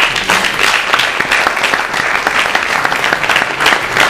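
Audience at a presentation event in Pescara giving a loud, close round of applause for a speaker, dense clapping with scattered sharper claps standing out, no voices over it.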